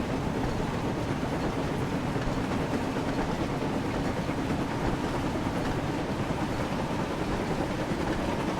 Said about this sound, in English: How are they not affected by the train noises?